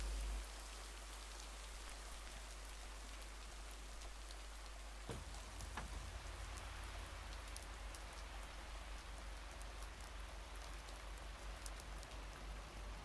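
Steady rain falling in the video game Lake, a continuous close hiss of drops on surfaces that runs for the whole stretch with no voices, broken only by a brief soft knock partway through.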